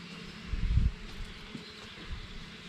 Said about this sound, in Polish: Tam chyba jest trzmiel nawet.